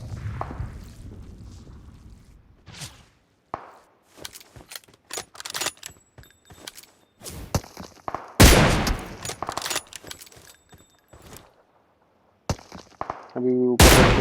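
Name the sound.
sniper rifle gunshots in PUBG video game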